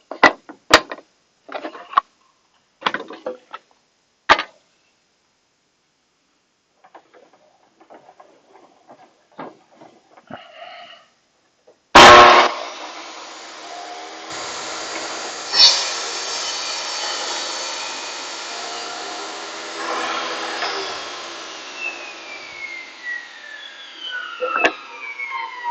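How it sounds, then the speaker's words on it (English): After scattered knocks and a few quiet clicks, a power tool starts abruptly and runs steadily for about thirteen seconds as it trims the wooden roof of a birdhouse, whining loudly and close. "Let me trim that off just a little bit."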